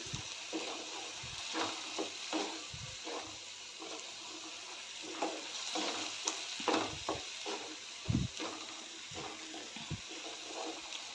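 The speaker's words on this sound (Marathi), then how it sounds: "तेल सुटेपर्यंत चांगलं परतून घ्यायचं आहे" Spinach curry gravy sautés in oil in a pan, a soft continuous sizzle under repeated scraping and stirring strokes, with a few louder knocks of the spoon, close and moderately quiet, without talk.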